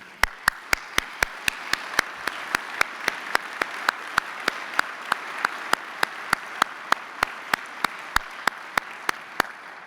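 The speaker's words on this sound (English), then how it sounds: "could we have a round of applause for the board" Applause for the board at an annual meeting, heard as a regular train of sharp, evenly spaced claps standing out above a softer continuous bed of audience clapping for about ten seconds.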